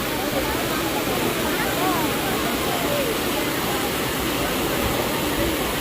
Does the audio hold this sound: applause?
no